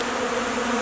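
Honeybees feeding on a protein patty in February make a dense, continuous close buzz, steady and unbroken through the short moment with no voices.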